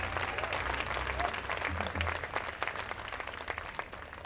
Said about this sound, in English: I think that deserves a round of applause in itself